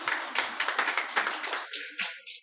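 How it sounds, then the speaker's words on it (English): A home crowd in a pool hall in Brasov, Romania applauds during a Dynamite Open 2015 ten-ball match, a short burst of close, rhythmic hand claps that thins out toward the end. "The home crowd here in Brasov, Romania applauds the rack for Thorsten Hohmann"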